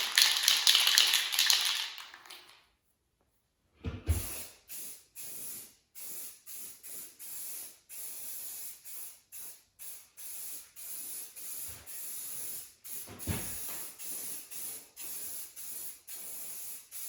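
A Rust-Oleum rust reformer spray can hisses in one long burst, pauses, then fires in a run of short, evenly spaced spurts, close and steady, on a 1968 Mustang.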